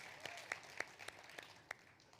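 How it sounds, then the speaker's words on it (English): A small audience at a startup accelerator demo day gives brief, sparse applause, a handful of sharp claps spaced apart that fade out quickly. "give him a round of applause for Mackenzie."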